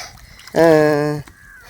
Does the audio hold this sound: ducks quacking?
yes